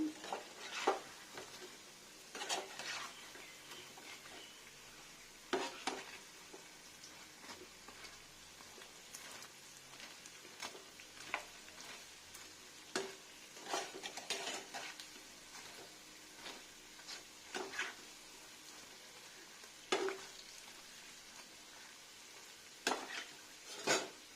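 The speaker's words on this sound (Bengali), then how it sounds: "কাঁচা না থেকে যায় কোনোভাবে যাতে সুন্দর করে ফ্রাইটা হয়ে যায়" Bora lentil fritters made with kalai frying in oil, a soft continuous sizzle broken by repeated scraping stir strokes in the pan, fairly quiet, with no talking.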